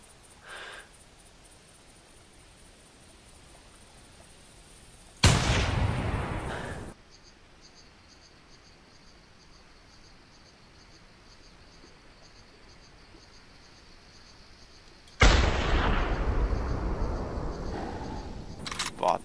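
Two loud, sharp rifle shots in The Hunter 2014, a hunting video game, each bursting broadband with a short tail, several seconds apart over a quiet outdoor ambience.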